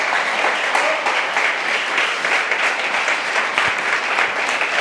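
A plenary assembly breaks into sustained applause as a vote by acclamation, a broad, even crackle of many hands clapping at moderate loudness without pause.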